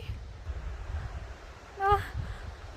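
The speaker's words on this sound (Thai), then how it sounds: "ได้ยินเสียงน้ำตกแล้ว" A steady, soft rushing of water rumbles in the distance, like a faraway mountain waterfall near Creede, Colorado, in winter with partly frozen falls, with a brief vocal sound partway through.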